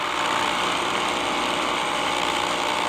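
Motors of an Oliver triple spindle horizontal boring machine, a doweling machine, running in a workshop: a steady, loud, broadband mechanical hum and whir that holds constant throughout, with no speech.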